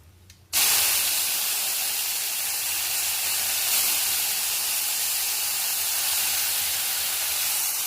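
Drumstick leaves drop into a hot pan of oil with chilli for a vegetarian Bengali fry, setting off a sudden loud sizzle that holds as a steady, even hiss from start to finish.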